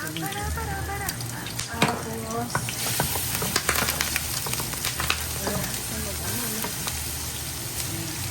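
Chicken and onions frying in a pan for arroz caldo, a steady close sizzle with scattered stirring clicks and scrapes, while a person talks intermittently over the cooking.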